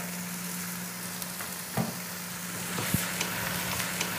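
Sausages, onions and mushrooms sizzle steadily in a frying pan, a constant close crackling hiss with occasional scrapes and knocks from stirring.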